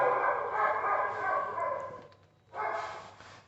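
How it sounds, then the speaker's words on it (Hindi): Dogs barking outside during a class-10 maths lesson on arithmetic progressions: a rough, continuous wash of barking and yelping that fades briefly, then surges again, fairly loud. "इन कुत्तों ने दिमाग खराब कर लिया भाई, पढ़ाने नहीं दे रहे"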